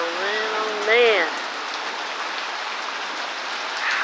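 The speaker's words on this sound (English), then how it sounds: "How torrential rains it is." Torrential, ice-cold winter rain pours steadily in a dense, even hiss close by, with a brief gust and a short exclamation from a person near the start.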